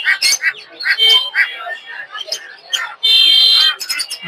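Lovebirds and budgerigars at a Sunday bird market in Tongi chirp and squawk in bright bursts, with a sustained shrill call near the end, mixed under nearby talk.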